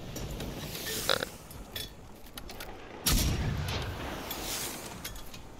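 Artillery fire in the video game Generation Zero, with distant booming impacts, a sharp blast near one second and a heavier explosion around three seconds that rumbles and decays, over a noisy background.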